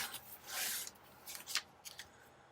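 Paper being cut with scissors for a handmade journal, freehand; quiet, close snips and a longer sliding cut, with a few short crisp strokes spread over a couple of seconds.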